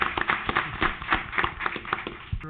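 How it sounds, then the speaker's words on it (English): An audience at a city council meeting applauds, a dense patter of many hands clapping at close range for a few seconds. "Let's give them a round of applause."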